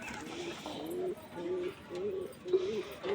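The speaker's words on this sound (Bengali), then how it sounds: "তো সব কবুতর তো যেতে চাচ্ছে না" Pigeons at a new loft coo in soft, repeated murmuring phrases at close range, with a few brief bursts of movement and no clear talk.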